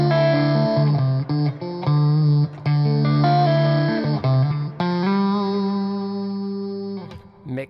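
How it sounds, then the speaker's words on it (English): Sustained electric guitar notes and chords play through a Neuro Hub distortion effect, with an expression pedal sweeping the mix so the gritty, bit-crushed texture swells and fades; loud and close, with no voices. "Mix comes up, more distortion comes in."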